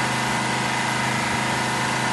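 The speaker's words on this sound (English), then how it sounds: "People get quite excited about the sound of a Detroit engine." A Detroit Diesel 16V92 two-stroke engine runs steadily, a loud, close, continuous drone with a buzzing, even tone and no change in pitch.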